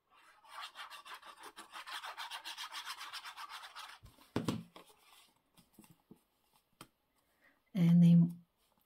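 Glue is applied around the edges of paper as a soft scratchy rubbing that runs for several seconds, followed by a few faint taps and a brief louder rub near the end, with quiet surroundings and close detail.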